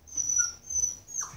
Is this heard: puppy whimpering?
yes